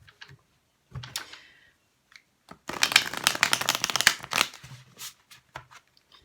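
Tarot Mucha cards are shuffled by hand, with a few soft taps and a short riffle, then a dense fluttering burst of cards lasting about two seconds, followed by scattered light clicks as the deck settles.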